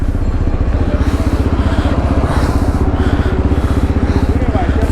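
A motorcycle engine runs close by with a rapid, steady throbbing putter and no change in pace, loud against faint background noise.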